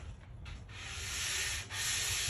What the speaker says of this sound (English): take a sanding block with 220 grit sandpaper and just lightly